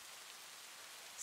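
A steady wash of rain falling on a surface, with dense even hiss and no distinct drops standing out, a short seamless loop used as ambience, with no voices.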